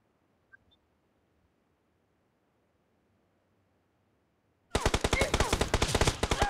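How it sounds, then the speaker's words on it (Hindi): Gunfire from the video game PUBG breaks a near-silent stretch with a sudden loud burst of rapid, closely spaced shots that lasts to the end. "स्नाइपर से मार रहा है।"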